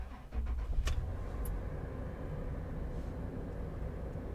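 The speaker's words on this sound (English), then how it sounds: "we'll go ahead and start the car" A 2018 Toyota 4Runner engine cranks and catches with a short burst, then settles into a low, steady idle nearby.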